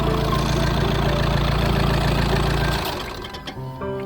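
An Audi A6 engine idles steadily after a restart following battery replacement, a loud, even low rumble that drops off and fades near the end with a few faint clicks.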